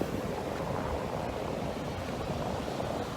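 Ocean waves washing onto a beach in the morning, a steady broadband rush of surf, moderately quiet and continuous, with no voices.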